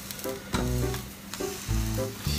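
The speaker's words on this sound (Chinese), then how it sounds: "我先煎一下面包的边边" Bread edges fry in red chili oil in a pan, giving a close, steady sizzle with a few louder pops and spatters and no voices.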